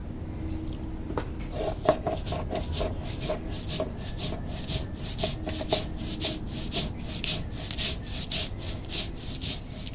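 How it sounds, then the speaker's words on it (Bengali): Poppy seeds, melon seeds and cashews being ground together into a paste, a close, steady rhythmic rubbing and scraping with regular strokes and no talking. "এখন সব একসঙ্গে বেটে নেবো"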